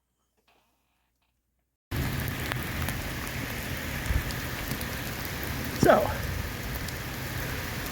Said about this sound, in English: what do you do if you're at Pennsic and it's raining?